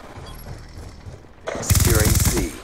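Shotgun blasts in a first-person shooter match, a Remington and an ASG, burst out loud after a quieter stretch of game sound, with rapid close reports filling the second half.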